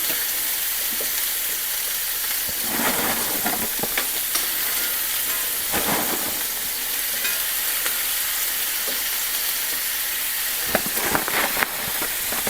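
Diced frozen onions sautéing in a pot for beef bourguignon, a steady close sizzle throughout with occasional scraping stirs mixed in.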